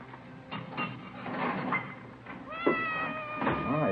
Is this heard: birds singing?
no